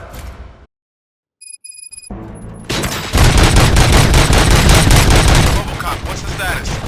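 Dense, loud automatic gunfire and rapid shots in the video game Robocop: Rogue City, erupting after a brief silence and continuing as a sustained roaring fusillade.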